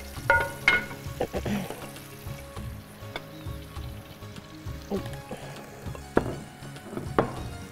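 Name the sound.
beans frying in oil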